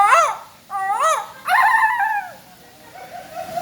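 A voice mimics a jackal-like wild animal call, giving several short rising-falling yelping whines in quick succession, close and clear, trailing off into a softer final note.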